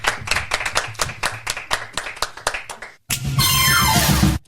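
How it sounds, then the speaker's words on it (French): At the Théâtre Le Fou Rire, a small audience claps in a loose rhythm of distinct hand claps, then after a brief pause a louder, fuller burst of applause swells and holds before dying away. "Applaudissez déjà le spectacle pour montrer qu'on est bien en public ici au théâtre Le Fou Rire"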